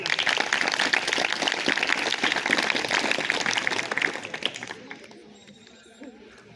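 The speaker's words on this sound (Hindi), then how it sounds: "सभी पेरेंट्स को और स्टूडेंट्स को अपने टीचर्स के सम्मान के लिए एक बार जोरदार तालियां" Parents and students at a school event applaud loudly for their teachers for several seconds, then the clapping fades out into quieter room noise.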